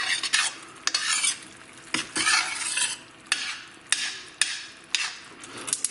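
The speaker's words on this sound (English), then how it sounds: "Add the parsley, give it a mix." A vegetable and shrimp soup with saffron and fresh parsley is stirred in a pot, with loud, repeated scraping and clattering strokes in an uneven rhythm and no voices.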